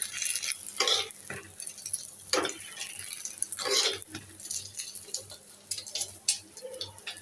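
Eggs fry in a pan at home, a soft sizzle underneath intermittent scraping and stirring strokes from a utensil, with occasional light clinks of metal against the pan.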